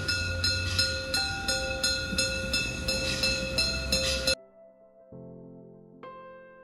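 Rhythmic clacking of a train on Rügen Island, Germany, rolling over rail joints with steady tones and rumble, then the noise cuts out abruptly to quieter, sparse electronic tones.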